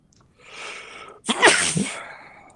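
A single person sneezes once during a tabletop card game: a short breathy intake is followed by a sharp, loud burst with a brief tail. No one talks.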